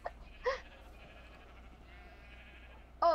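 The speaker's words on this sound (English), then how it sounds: "is that a rainbow colored sheep?" A sheep in the Minecraft game gives a couple of short, faint bleats, one brief call early on and another near the end, over a quiet background.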